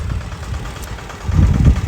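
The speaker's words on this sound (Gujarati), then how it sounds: "આ લોકોના આ ટ્રેક્ટર તમે જોઈ રહ્યા છો" A tractor engine runs on a roadside among a group of pilgrims on foot, a steady low rumble that grows louder and rougher toward the end, with no talk over it.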